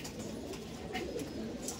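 A young racer pigeon and its loftmates coo softly and steadily in a dense, low murmur, with no talking.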